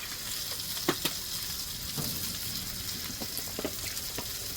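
Butter and cream bubbling and sizzling on a Blackstone griddle for mac and cheese, a soft steady fry with occasional light stirring scrapes and pops.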